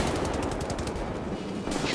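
Laser weapons firing in the video game Wolfenstein: The New Order, a loud rapid stream of buzzing shots pulsing steadily for about two seconds, no talk over it.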